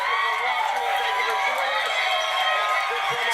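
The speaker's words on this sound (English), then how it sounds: "Stop cheering." A studio audience cheers and applauds loudly and steadily for late-night host Jimmy Kimmel, a sustained roar of many voices with no pauses.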